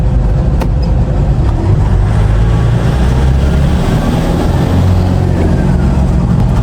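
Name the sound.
Toyota Quantum 2.5D diesel minibus engine while driving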